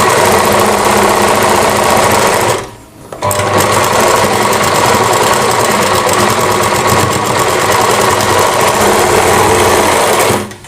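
A sewing machine stitches a kanchli blouse at a steady, fast, loud whirring hum. It stops briefly for about half a second, then resumes running continuously, with no talking.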